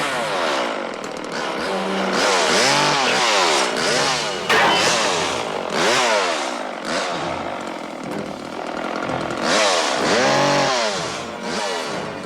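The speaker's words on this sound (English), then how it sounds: "a chainsaw versus axe fight breaks out" A chainsaw revs and roars loudly and continuously, its engine pitch rising and falling in repeated bursts, close by.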